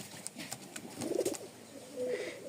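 A male Rajshahi Giribaj pigeon gives a short burst of soft, throaty cooing in the middle, close by, over quiet room noise and faint handling sounds.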